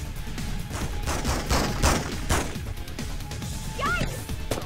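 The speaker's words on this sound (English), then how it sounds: "some thugs they're like shooting at the police" Thugs firing guns at police in Spider-Man 2, bursts of rapid gunshots and impacts under constant chatter and shouting voices, with a brief high whine near the end.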